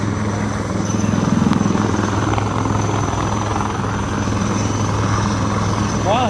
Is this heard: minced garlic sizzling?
no